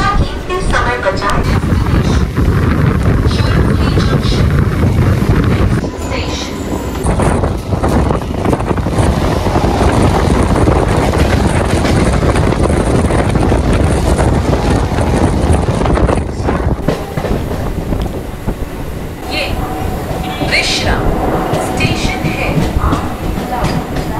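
A Howrah–Tarakeswar local train runs between Hind Motor and Konnagar, its steady roar and rumble filling the carriage with wind buffeting the microphone, continuous and loud throughout.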